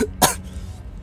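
A single short cough, fairly close and moderately loud, stands alone over a low steady background hum with no talking.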